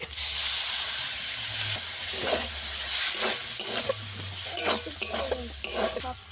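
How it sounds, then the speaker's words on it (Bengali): Singara filling with peeled fried peanuts is stir-fried in a pan, loud continuous sizzling broken by repeated scraping strokes of a spatula, close and alone without voices. "আবারও সব কিছু একসঙ্গে কষিয়ে নেব"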